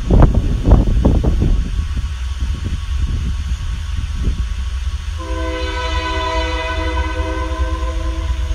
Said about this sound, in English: The train. Just disregard the train.